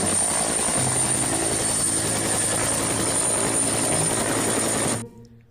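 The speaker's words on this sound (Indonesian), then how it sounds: "Keluarlah helikopter." A toy helicopter whirs loudly and steadily with a high constant whine for about five seconds, then cuts off abruptly, leaving a brief quiet tail.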